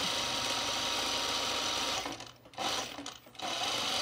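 A serger overlocks the seams of Carolyn pajama bottoms, running as a steady, close mechanical whir that stops twice briefly and then starts up again, with no voices.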